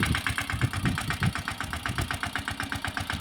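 A Yuvraj tractor engine chugs at a steady idle-like pulse while harrowing a pigeon pea field on a Gir farm. The rhythmic knocking is fairly faint and carries on alone, with no voices.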